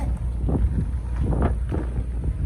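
Wind from a sandstorm in Jizan roars and buffets against the microphone in heavy low gusts that rise and fall over a few seconds.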